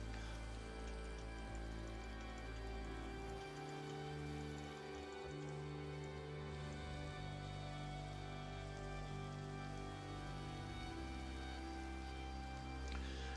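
Steady rain pours in the Minecraft video game, a dense, even hiss that stays constant throughout with no talk over it.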